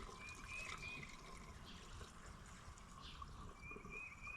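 Gasoline trickles and splashes as it is poured from a distilled water jug and spills, a soft, close liquid gurgle with a faint high whine in the background, no talk.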